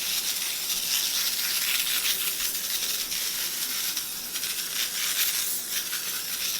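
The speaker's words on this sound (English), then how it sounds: "I'm going to take some of this olive oil spray and I'm going to spray the S out of this" Olive oil spray misted onto parchment paper in a home kitchen, a steady close hiss running unbroken throughout with no talking.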